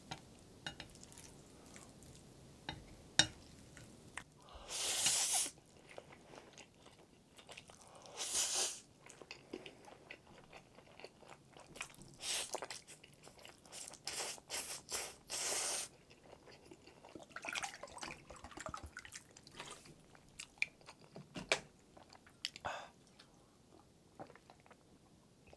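Someone eats carbonara Buldak hot chicken ramen, kielbasa sausage and Spam close to the microphone, with soft chewing and slurping punctuated by several louder bursts of crunching and biting.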